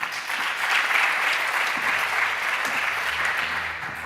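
Audience applause at a European data and innovation award ceremony after a bronze label is announced, a full, even wash of clapping from a hall that holds steady for about four seconds.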